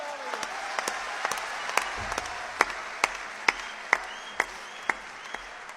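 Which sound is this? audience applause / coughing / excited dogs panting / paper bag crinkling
audience applause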